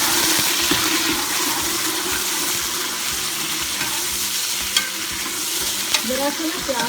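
Meat and browned onions frying in a pan while being stirred, a steady close sizzle with scraping stir strokes and a couple of sharper clicks, no voices.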